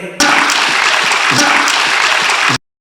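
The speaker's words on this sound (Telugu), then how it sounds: "కృప కొరకు గట్టిగా చప్పట్లు కొడదాం" A church audience bursts into loud, dense clapping that holds steady for a couple of seconds, then cuts off abruptly.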